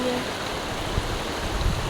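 Surf at a seaside beach, heard as a steady broadband wash of water noise with small surges and no voices over it.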